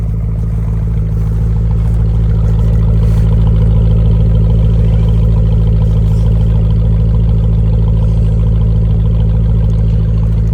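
A cammed, tuned 2011 Jeep Grand Cherokee with a 5.7 Hemi V8 and short tube headers idles close by, a loud, steady, lumpy exhaust rumble that continues unbroken with no talking.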